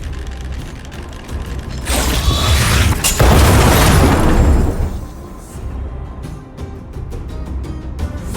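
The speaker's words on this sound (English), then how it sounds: "We wiped them all out in a single explosion!" An automaton stealth bomb explodes in Honkai: Star Rail, a mechanical clicking and ticking building into a loud roaring blast that lingers for a couple of seconds before trailing off into scattered clanks and pops.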